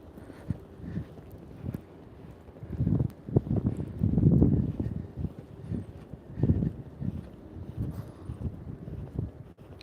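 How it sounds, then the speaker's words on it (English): Wind gusts outdoors buffet the microphone in low, irregular rumbling bursts that swell and fade, growing stronger toward the middle. "The wind is starting to pick up."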